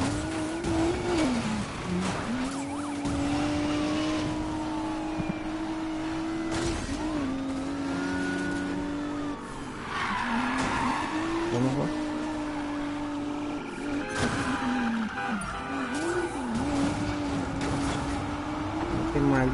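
A racing car in Need for Speed slides sideways with repeated tire squeals over a steady engine drone, the screeching rising and falling several times across the run, loud and close.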